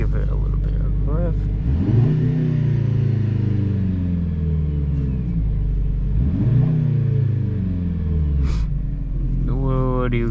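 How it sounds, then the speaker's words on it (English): A 2025 Mercedes-AMG C63 S engine revved twice from idle in race mode, each rev rising to a throaty surge and falling back, loud and close with a small pop afterward, a voice talking over it. "I'm gonna give it a little bit of rev."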